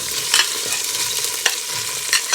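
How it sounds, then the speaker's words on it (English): Onions just added to a hot pan for a venison roast, frying with a loud, steady sizzle broken by three sharp utensil scrapes against the pan. "So now I'm gonna go ahead and put my onions"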